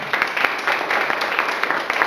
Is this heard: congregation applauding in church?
yes